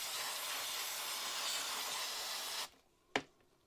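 Continuous hiss of chain cleaner sprayed onto a bike chain, steady for over two seconds and then cut off abruptly, followed by one short sharp burst of spray.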